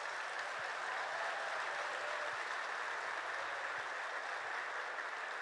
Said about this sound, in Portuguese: pedindo para você se aplaudir quem está do seu lado aí mais uma